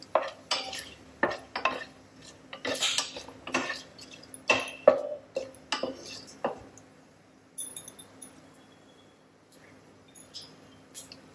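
A spatula clinking and scraping against a pan as cinnamon, cloves, cardamom and bay leaf are stirred and roasted, sharp irregular metal taps for several seconds before fading to quiet.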